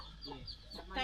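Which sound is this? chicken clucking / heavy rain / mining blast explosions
chicken clucking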